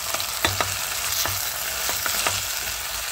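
Mango pieces being stirred into a prawn curry in a pan, a continuous sizzle with a few soft scrapes of the spoon at irregular intervals.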